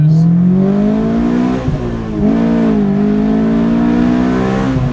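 A Honda S2000 engine with a throaty custom single-exit exhaust revs loudly and steadily, pitch dipping briefly before climbing again.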